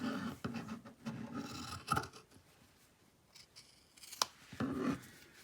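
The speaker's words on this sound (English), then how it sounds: "I cut this at an angle in to the opening of the bag" Scissors cutting a fabric bag at an angle, giving quiet close snips and crisp scrapes in irregular bursts with soft rustling between cuts.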